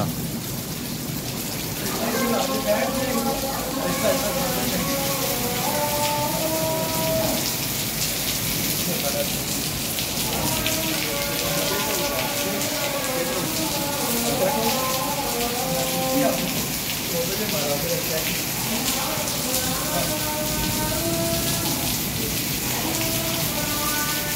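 Steady rain falling in Islamabad, a continuous dense hiss of drops on surfaces, with a voice or melodic sound running faintly beneath it for much of the time.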